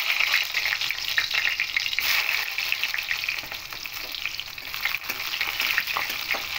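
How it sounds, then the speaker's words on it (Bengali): Pointed gourd pieces sizzle and crackle in hot mustard oil in a wok, a steady loud frying hiss with occasional stirring scrapes, no voices. "তেলের মধ্যে পটলগুলো দিয়ে দেবো।"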